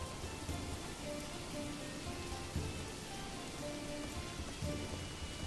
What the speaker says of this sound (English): if only the rain could help put out the fire